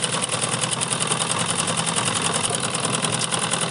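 Sewing machine stitching the seam of a trouser leg, a steady, dense mechanical whir and rapid needle clatter running loud and continuous throughout, with no talk.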